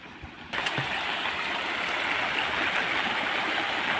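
Rainwater runs steadily across a flooded farm field after heavy rain, a constant rushing flow that starts abruptly and holds close and fairly loud with no talk.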